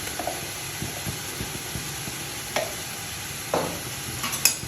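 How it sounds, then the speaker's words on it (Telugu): Godavari fish curry being stirred in a pan, soft scraping strokes and light sizzling, quiet and close with occasional sharper clinks. "ఇది కూడా బాగా కలుపుకుందాం."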